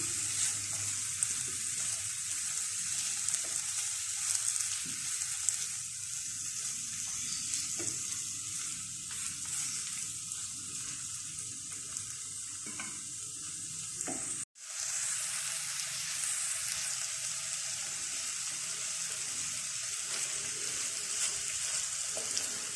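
Chicken lightly frying in a pan for spinach chicken curry, a long steady hiss of sizzling oil with occasional soft stirring knocks and a brief dropout near the middle, close and untouched by speech.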